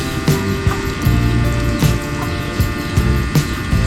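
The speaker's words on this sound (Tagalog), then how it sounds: "Lupit yung blower." A blower runs steadily during a birthday feast cooking setup, a constant loud hum with faint periodic knocks and no talk.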